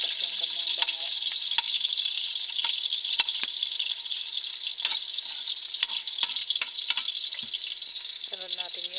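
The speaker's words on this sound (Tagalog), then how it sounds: "Sunod natin yung sibuyas. Haluin lang natin ng kaunti para lumabas yung kanyang bango." Garlic, onion and ginger sauté in a pan for Filipino adobo, with a loud, steady sizzle broken by clinking stirs of a utensil against the pan.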